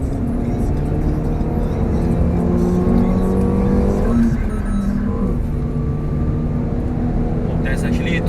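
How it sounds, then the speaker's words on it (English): A Renault Megane RS280 Cup hatchback's engine drones steadily from inside the cabin on a highway, with rising and falling tones as it accelerates, under talk from the occupants. "I like the sound of the engine"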